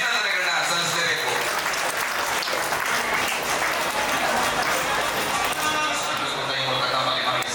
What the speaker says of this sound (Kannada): ಜೋರಾದ ಚಪ್ಪಾಳೆ ಬರಲಿ ಸ್ನೇಹಿತರೆ